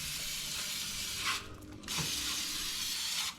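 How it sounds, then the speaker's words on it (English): Parts cleaner sprays in steady hissing bursts onto Yamaha Grizzly 90 ATV rear brake parts, close and loud, with a short pause between two sprays. "Some parts cleaner, that's all."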